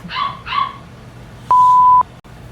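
A dog gives two short barks close by, followed after a pause by a sustained electronic beep from a multifunctional facial cleaning device with a skin probe.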